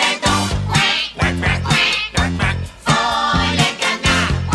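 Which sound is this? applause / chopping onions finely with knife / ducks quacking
ducks quacking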